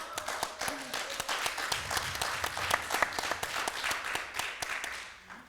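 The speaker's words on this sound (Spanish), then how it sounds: "tenemos a la protagonista aquí, a Valentina, que le pido un aplauso." Audience applause at a film forum for independent genre cinema, dense steady clapping from a crowd that holds for several seconds and fades slightly at the end.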